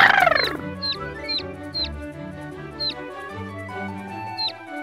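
A cartoon hen clucks in short, high, squeaky calls spaced a second or so apart, quiet and close, after a brief louder burst at the start.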